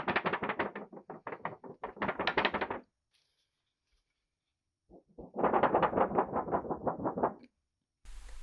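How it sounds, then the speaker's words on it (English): Completely dry watercolor paper being handled, giving two close bursts of rapid crisp crinkling separated by a silent pause. "listen to the crinkle of completely dry paper"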